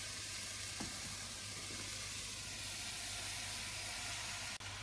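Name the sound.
leg of lamb put back into the pan, sizzling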